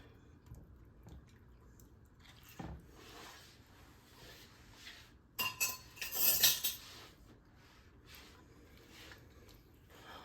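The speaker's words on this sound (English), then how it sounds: "I'm going to stir this around a little bit." A utensil stirring sweet and sour sauce for baked chicken drumsticks, heard as quiet intermittent clinks and scrapes against the pan, with a louder burst of metallic rattling partway through.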